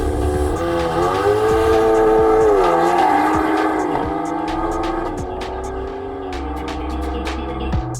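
A rear-wheel-drive BMW M140 with an M2 front end and a B58 engine launches at a drag race. Its engine howl rises and drops in pitch, loud over a rumbling crowd backdrop with voices.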